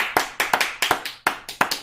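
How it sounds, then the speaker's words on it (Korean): A church congregation clapping in praise, about a dozen crisp, loud hand claps in a fairly regular rhythm over less than two seconds. "우리 영광의 박수 하나님께 한번 Let's 돌리십시다."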